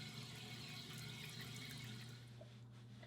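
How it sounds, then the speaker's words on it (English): A bathroom sink faucet runs steadily while someone rinses their face, producing a constant close water rush with light splashing and no talk. "now time to just rinse like normal."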